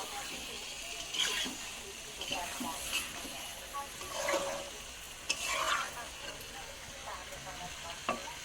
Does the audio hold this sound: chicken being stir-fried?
yes